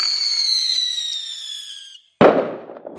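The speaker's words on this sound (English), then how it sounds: "Fireworks." A firework whistles upward in a long high descending tone, falls silent for a moment, then bursts in a single loud sharp explosion that crackles and fades.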